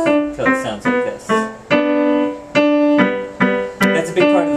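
Piano plays the opening phrase of Turkish March alone, a quick run of bright repeated notes in short bursts, moderately loud and close, with no talking.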